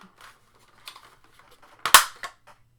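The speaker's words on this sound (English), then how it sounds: "The back panel does come off." The plastic back panel of a large Hasbro Marvel Legends Haslab Sentinel toy is pried loose with a few faint creaks and clicks and then a sharp, loud snap as it pops off, heard close and alone.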